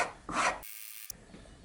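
A plane blade's flat back rubbed along a strop during sharpening: a loud, short rasping rub stroke, then a pause and a fainter scrape, with no talking.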